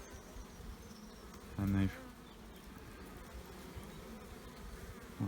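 Honey bees buzzing around open hives during an early-season inspection, a constant soft drone of many bees with a couple of louder buzzes passing close, and a brief spoken word.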